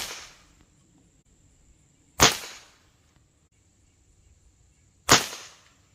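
Two sharp shots from an Umarex Komplete NCR air rifle firing 9.57-grain H&N Field Target Trophy Green pellets, each a crisp crack with a quick decay, spaced about three seconds apart in near silence.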